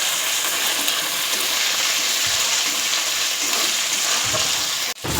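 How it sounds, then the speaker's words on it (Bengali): Ginger and green chilli paste sizzles steadily in hot oil in a pan, a continuous close frying hiss with faint stirring, briefly cutting out near the end. "আদা কাঁচা লঙ্কাটা খুব সুন্দরভাবে ভেজে নেব, যাতে আদার কাঁচা গন্ধটা চলে যায়"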